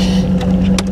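A warmed-up Camaro 305 TPI V8 idles steadily in neutral at roughly 700 rpm, a close, continuous low throb with an even tone and no voices.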